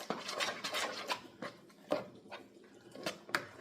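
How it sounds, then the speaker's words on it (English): Beaten eggs being stirred into a Southern cornbread dressing mixture, a utensil scraping and knocking against the bowl in quick, irregular strokes, close and fairly soft, with no talking. "we're going to stir those eggs around"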